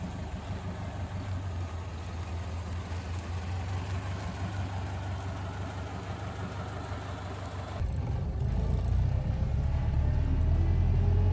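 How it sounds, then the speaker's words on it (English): A Ford Model A, fitted with a new Mitchell transmission and overdrive, rumbles steadily on its first test drive, the low engine note holding even before growing louder and heavier toward the end. "getting the Lady in Red out of the shop and onto the road for its first ever test drive"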